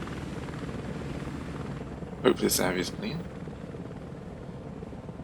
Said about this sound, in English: here comes my assault helicopters.